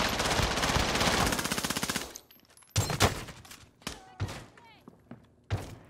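Sustained rapid automatic gunfire in Call of Duty Warzone rattles loudly for about two seconds, then gives way to scattered single heavy shots and thuds with gaps between them.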